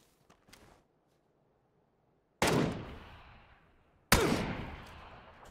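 Two loud, sharp gunshots in the PUBG battle royale game, spaced about two seconds apart, each with a long decaying echo, follow a few faint soft clicks.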